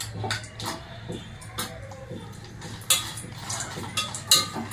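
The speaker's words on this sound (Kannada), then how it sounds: "ಬ್ಯಾಡಗಿ ಮೆಣಸಿನ್ಕಾಯಿ ಹಾಕ್ತಾಯಿದ್ದೀನಿ" Byadgi dried red chillies dropped into a pan for red chutney, with light metallic clinks and scrapes of a utensil against the pan, a few sharper taps near the end, close up and without talking.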